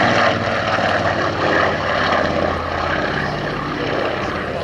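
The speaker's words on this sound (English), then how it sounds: "a much throatier sound from the Anson" Avro Anson in flight, its pair of 420 horsepower Armstrong Siddeley Cheetah 15 radial engines giving a steady, throaty droning roar at an air display, loud and continuous with no voices.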